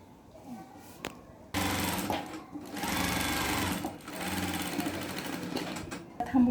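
Sewing machine stitching along a marked design on fabric, a steady close mechanical whir that starts abruptly after a quiet opening with faint background noise and runs continuously, briefly easing near the end as the stitching slows.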